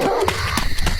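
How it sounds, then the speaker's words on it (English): A white dog barks in a short close burst of sharp yips, loud and alone over a low background rumble. "With an earth-shattering series of barks, the white dog pursued the fleeing man with supernatural speed."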